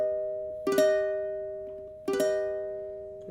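An augmented triad in first inversion is struck twice, each strike ringing with a sustained harmonic tone that slowly decays. The strikes come about one and a half seconds apart, clear and alone with no talk.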